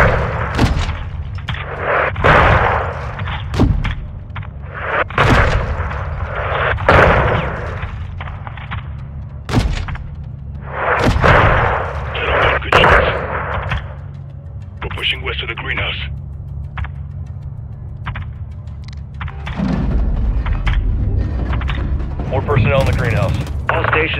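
A gunship's 40mm cannon pounds a building in Modern Warfare 2: heavy, evenly spaced booming shots, one every second or so, with radio chatter and spoken commands over them.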